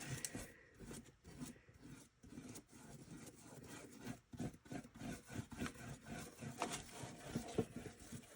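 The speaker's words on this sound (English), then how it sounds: "apply my aging wax and see what happens" Aging wax is rubbed onto thrifted wood furniture in quiet, repeated scrubbing strokes, a soft rhythmic rasping heard close with no talk.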